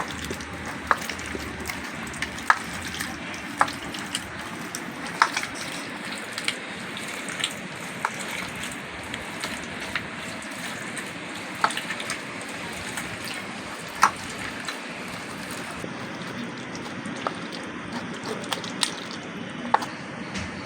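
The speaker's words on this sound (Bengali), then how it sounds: "এবার আমি হাত দিয়ে এরকম ছেনে ছেনে তেঁতুলের কাঠটাকে বের করে নেব" Soaked tamarind is kneaded and squeezed by hand to free the seeds, a soft continuous wet squishing with scattered small clicks and drips, close and quiet.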